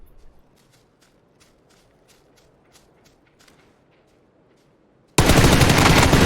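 PUBG gunfire arrives as a sudden loud, dense burst near the end, after quiet, faint footstep-like taps.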